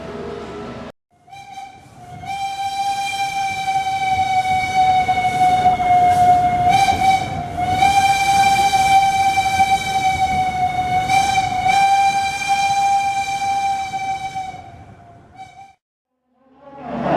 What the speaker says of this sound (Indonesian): ini dia perjalanan kereta api Bogowonto menuju ke